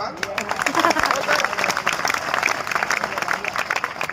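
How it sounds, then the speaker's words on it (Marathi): An audience at a Shiv Jayanti public speech event applauding loudly in a dense, sustained burst of clapping, with voices mixed in beneath it. "हे टाळ्या होत्या का जोरात?"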